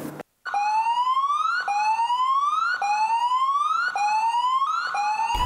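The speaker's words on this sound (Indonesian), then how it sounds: "Sirine tsunami terdengar di sepanjang garis pantai Selandia Baru pada Jumat 5 Maret." A loud wailing tsunami warning siren along the New Zealand coastline, rising in pitch over and over, each sweep about a second long, sounding steadily with no other sounds.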